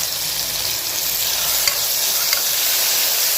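Tomatoes sautéed and stirred in a pan for a beef gravy, a loud, continuous hissing sizzle with a couple of faint spatula touches.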